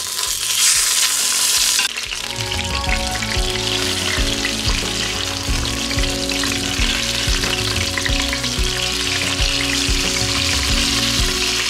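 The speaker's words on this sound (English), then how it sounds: "what we're gonna do is just brown them on both sides" Bone-in, skin-on chicken thighs brown in an Instant Pot with a loud, continuous sizzle and spatter close by, steady throughout with no talking.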